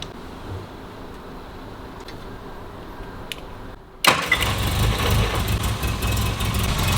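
A 1963 Mini Cooper with a 997 engine idles quietly, then at about four seconds the engine is restarted or blipped and settles into a louder, steady, close running idle, with no talk.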